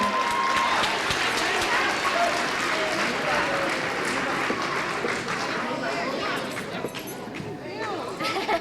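A crowd applauds a graduate of a 1997 pivot program. The clapping is steady and fairly loud and stays mixed with crowd chatter throughout, easing slightly toward the end.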